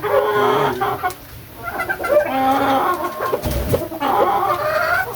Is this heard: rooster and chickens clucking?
yes